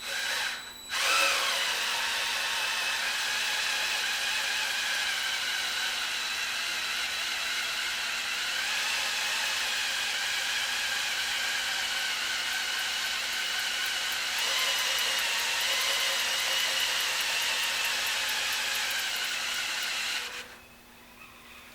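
A power drill priming oil pressure in a 1973 Corvette big-block engine runs continuously at a steady high whine for about twenty seconds, starting and stopping abruptly, close and loud, with no talking.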